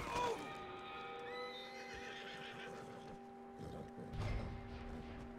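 A horse in Red Dead Redemption 2 gives a clear, fairly close whinny at the start, followed by a few hoof thuds and a quiet snort over low background ambience.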